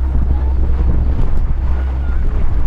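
A strong headwind buffets the microphone on open water during a women's lightweight collegiate rowing race, making a loud, steady low roar and rumble throughout.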